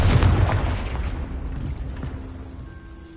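A Confringo blasting spell detonating in Hogwarts Legacy, a heavy low boom that rumbles and fades over a few seconds with no talking.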